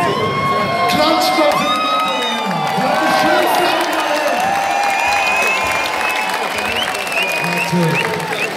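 A large crowd at a concert claps, cheers and whoops loudly and continuously, with high shouts and whistles rising over the dense applause.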